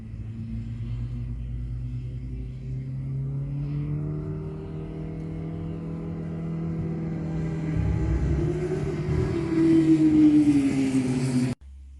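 Race cars at the Arctic Circle Raceway drone past at a distance, a continuous low engine rumble that swells and rises in pitch toward the end before cutting off abruptly.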